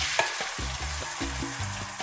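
Beaten eggs fry as thin omelettes in a large hot pan, a soft continuous sizzle with light scraping and tapping of a utensil, fairly quiet and close.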